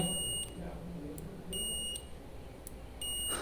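Electronic beep from a DIY electric screwdriver circuit when two switch wires are touched together, sounding as a few short high-pitched tones repeating over steady background hum.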